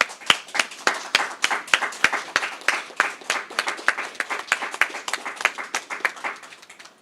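A small group claps at a sheriff's office press briefing on a murder case, the individual hand claps sharp and distinct in a brisk uneven rhythm that slowly thins out and fades over seven seconds.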